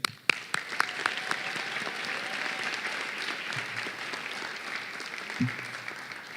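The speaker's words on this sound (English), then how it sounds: "there's another group that deserves a very big round of applause." Soft, somewhat distant applause from a large commencement crowd at Howard University College of Medicine rises after a few sharp opening claps and holds steady, honoring the professors.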